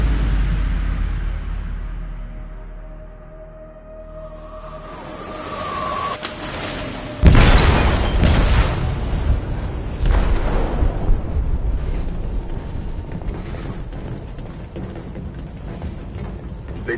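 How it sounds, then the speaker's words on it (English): An explosive detonates in a ship's hold in a video game, a sudden loud blast midway through after a quieter low rumble, followed by sustained heavy rumbling and creaking as the vessel sinks. "They detonated an explosive in the hold."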